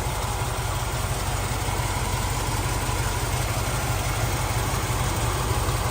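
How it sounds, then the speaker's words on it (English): A 1990 Land Rover 90 County station wagon with a V8 engine, four-branch header exhaust and K&N sports filters idles with a steady, even burble that continues close by without a break. "It starts nicely whether it's hot or cold, and it just does what it's supposed to do. Burbles away nicely."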